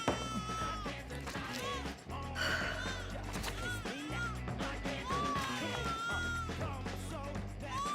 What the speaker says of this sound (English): Oh, that? Just a cat.